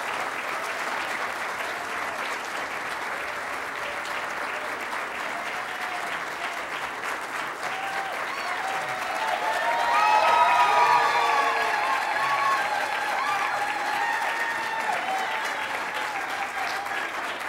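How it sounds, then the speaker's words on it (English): A debate audience at Widener Law applauds as U.S. Senate candidates from Delaware enter the room, with long, even clapping that swells louder partway through, and a few cheers and voices mixed in. "How about a nice round of applause for our candidates as they enter with us?"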